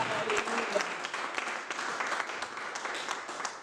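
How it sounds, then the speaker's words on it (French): A church congregation applauds with steady, sustained clapping from a crowd, moderately distant and even throughout. "Acclamons la parole du Seigneur."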